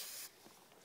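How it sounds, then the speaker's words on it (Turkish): A short, faint aerosol spray hiss, WD-40 type, spritzed onto newspaper near a car battery, lasting about a quarter second before cutting off to quiet background. "Biraz daha sprey."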